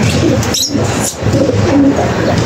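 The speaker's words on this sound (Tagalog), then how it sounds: "Ito na natin yung pinakamalaki nating ibon na dumating na" At a pigeon loft during a training race, birds coo loudly and close by as a racing pigeon arrives home, with a steady background of cooing and rustling.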